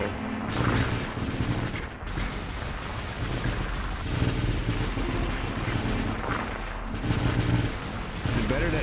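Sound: ship gunfire in the video game Nova Drift

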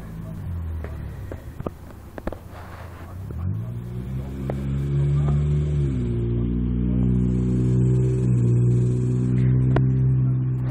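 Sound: car engine passing nearby

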